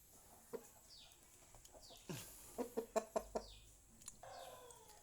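Fighting rooster at a cockfighting ring, giving a series of short clucks and squawks, several in quick succession mid-clip, with faint background noise and brief bird calls.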